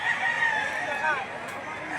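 A rooster crows at a livestock auction in Lipa City, Batangas, a single drawn-out call heard close among crowd noise, with someone talking over it.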